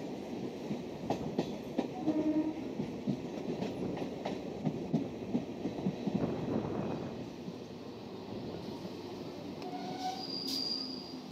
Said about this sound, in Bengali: যে ট্রেনটি আসছে ট্রেনটি শিয়ালদহ রানাঘাট লোকাল।